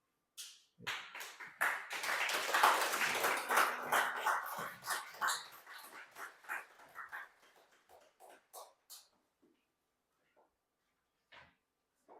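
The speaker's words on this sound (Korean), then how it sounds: "선교사님 나오실 때 환영의 박수로 맞이하겠습니다." Church congregation applauding at a Korean Sunday worship service as a missionary preacher comes forward, a swell of clapping that peaks early and thins out into scattered claps, fairly faint and distant.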